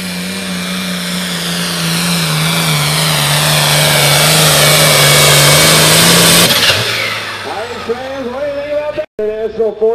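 An International 1066 farm tractor roars at full throttle during a 9,500 lb hot farm tractor pull in Platteville, Wisconsin, a loud sustained engine drone that suddenly drops off, followed by an announcer talking over the crowd.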